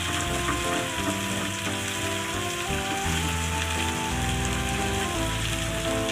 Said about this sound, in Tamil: ஒரு 20 பல்லு பூண்டு தட்டி போட்டுக்கலாம். நல்லா எண்ணெயில் வதக்கிங்க.